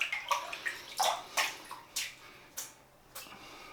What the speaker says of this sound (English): So I'll just wet the brush.